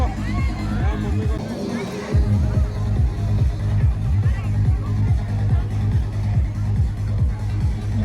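Busy murmur of a large crowd of visitors filing through the gate into a Durga Puja pandal in Asansol, a continuous babble of many voices with rhythmic drumming pulses underneath and a person talking nearby.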